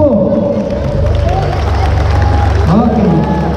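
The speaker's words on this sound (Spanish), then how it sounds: "A ver, el aplauso para ese niño de la escuela primaria Policarpo." A crowd at a village Independence Day celebration in Mexico applauds a primary school boy, dense clapping and cheering throughout, loud and close, with a voice talking over it.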